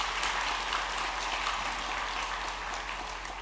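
Congregation in a church applauding the choir after a Sunday afternoon service: a steady burst of many hands clapping throughout, fairly close, with no voices over it.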